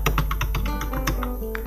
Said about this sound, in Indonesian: dan kita coba klik dan kita ketik